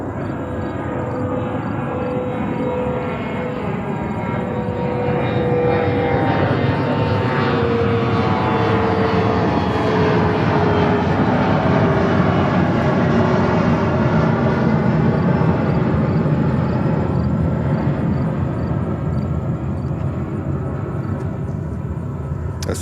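Boeing 747 jet engines roaring at JFK airport in New York, a loud, steady broadband rumble and whine that swells slightly mid-way and holds continuously without speech.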